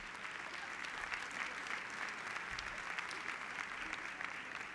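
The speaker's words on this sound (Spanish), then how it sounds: "Un fuerte aplauso a estos actores voluntarios." Steady applause from a church audience for young volunteer actors called up on stage, moderately loud and continuous throughout, with no speech over it.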